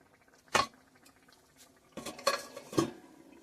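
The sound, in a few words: stirring and covering a cooking pot with a lid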